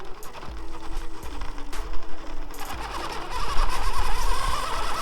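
A Traxxas TRX4 Bronco RC crawler fitted with a Castle brushless motor climbs a ramp at slow speed, giving a close, busy whirr of motor and gear whine with small clicks and rattles that swells toward the end.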